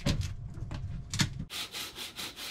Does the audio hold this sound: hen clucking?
no